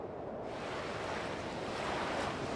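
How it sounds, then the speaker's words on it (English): Open ocean waves miles off the Long Island coast, a steady broad wash of surf and wind with no distinct breaks, moderately loud and continuous throughout. "The open ocean. Out here, miles off the Long Island coast,"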